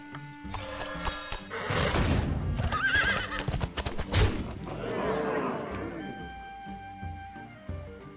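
A knight chess piece in Hearthstone's Karazhan chess game gallops with heavy hoofbeats and gives a loud, shrill whinny, then the clatter fades into soft background music.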